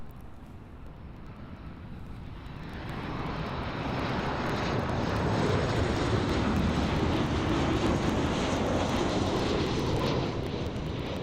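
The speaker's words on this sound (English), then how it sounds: "So that was Transavia HV1730 operating from Zakynthos" A Transavia passenger jet, flight HV1730 from Zakynthos in Sunweb livery, passes at Amsterdam airport, its engine roar swelling from a moderate rumble to a loud, sustained broadband roar that stays strong to the end.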